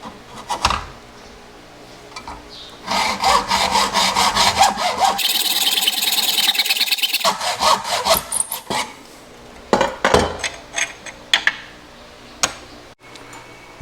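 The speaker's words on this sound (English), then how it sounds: "A sharp hacksaw blade, in about 30 minutes or so you can get through this pretty quick." A sharp hacksaw blade cuts pieces for Toyota Tacoma bed rail caps with steady back-and-forth rasping strokes in close, rhythmic runs. The sawing pauses briefly, then comes back as a few scattered strokes.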